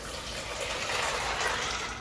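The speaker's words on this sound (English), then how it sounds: "And then you just put enough water" Tap water pours steadily into a pot of dry pasta, making a continuous, even rushing splash for about two seconds with no talking.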